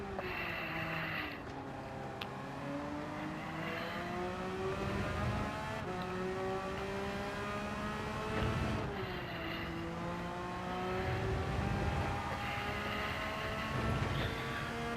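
A race car engine in a Manufacturer's Cup World Series race, revving up through the gears in long rising whines that drop and climb again, loud and steady throughout, with no voices over it.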